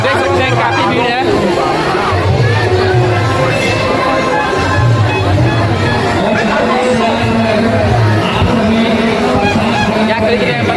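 Crowd chatter at a busy Mahashivratri temple festival, a loud, unbroken murmur of many overlapping voices nearby, punctuated by occasional honk-like calls rising above the babble.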